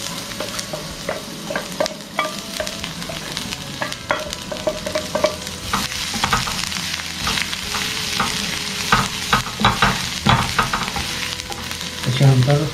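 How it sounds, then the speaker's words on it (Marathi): Garlic and ginger fry in a pan with a loud, steady sizzle, overlaid by frequent close stirring scrapes and clatters that grow busier toward the end. "यामध्ये पहिल्यांदा टाकतोय लसण आणि अद्रक, आले."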